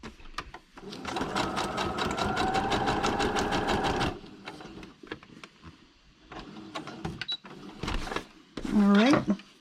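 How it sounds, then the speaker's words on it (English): A sewing machine stitches around a flower on a sheet of paper, running in a steady rapid whir for several seconds, then stopping and restarting in short bursts; a voice talks over the work. "We have now set that flower off by sewing around it."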